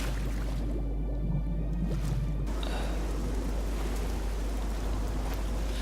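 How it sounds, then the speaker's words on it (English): Steady rain falls in Elder Scrolls Oblivion, a continuous wash of hiss and patter with a low constant rumble beneath, running unbroken throughout. "So I like the rain on this game."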